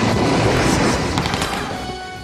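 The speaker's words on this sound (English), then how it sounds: "That was a fake explosion" A loud staged film explosion from On Her Majesty's Secret Service (1969), a dense blast with crackling debris that slowly fades over a couple of seconds.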